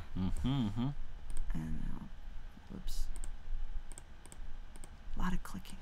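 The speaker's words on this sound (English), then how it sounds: "A lot of clicking sometimes." A computer mouse clicks repeatedly in quick, irregular bursts, close and fairly faint, while people talk over it.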